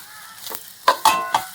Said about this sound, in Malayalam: ഇപ്പോൾ നമ്മളെ തേങ്ങയൊക്കെ വറുത്ത് റെഡിയായി വന്നിട്ട്